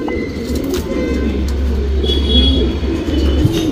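Pigeons coo steadily close by in soft, rolling low calls over a constant low hum.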